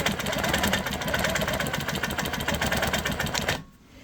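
A quilting sewing machine runs in regulated mode at 12 stitches per inch, making a loud, continuous, rhythmic mechanical chatter close by. It stops abruptly near the end.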